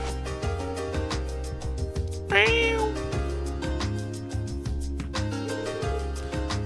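A single bright rising meow from a little kitten in the video game Trails From Zero, sounding once over steady background music.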